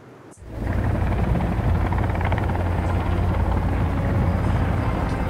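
Helicopter flying in the survival video game Sons of the Forest: a steady, loud rotor and engine drone that starts abruptly and holds constant, with a rapid low beating under broad noise.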